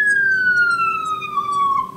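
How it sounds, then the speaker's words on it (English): An emergency siren soloed out in isolation, a steady loud tone slowly gliding downward in pitch with a clear stack of harmonic overtones above it, with no other sounds and a faint low hum underneath. "we're hearing the siren and its associated harmonic overtone series."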